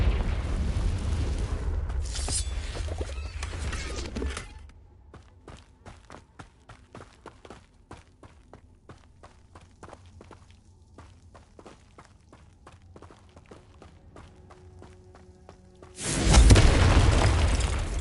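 Confringo fire-blast spells go off in the Hogwarts Legacy video game, heavy booming bursts at the start and end framing a quieter stretch of rapid clicks and footstep-like taps, loud and close with no talking.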